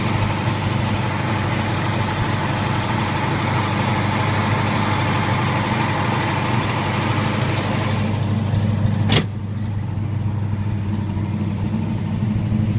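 A V8 engine in a 1965 Ford Mustang Fastback with oil leaks idles with a steady low rumble, close and continuous, with a brief sharp click near the end before the hum settles.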